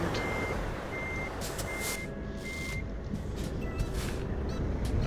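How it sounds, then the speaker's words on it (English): A truck reversing in a trucking video game sends out a steady series of high electronic reversing beeps, loud and evenly spaced over a continuous engine rumble. "Maybe better just reverse this back this way and then turn around."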